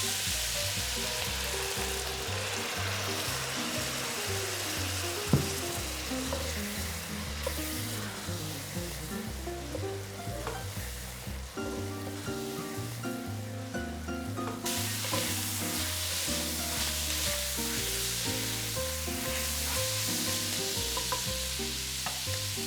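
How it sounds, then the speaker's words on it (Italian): Minced meat sizzles in a pan for Bolognese ragù after the wine has cooked off, a steady close crackling fry with stirring scrapes and occasional sharper pops throughout. "Il vino si è completamente ritirato, la carne sta sfrigolando di nuovo."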